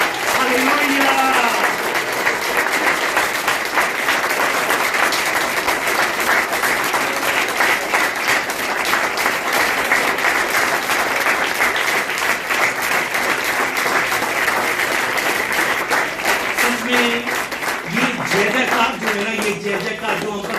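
A church congregation applauds loudly and continuously for about twenty seconds, a dense wash of clapping with cheering voices rising over it near the end.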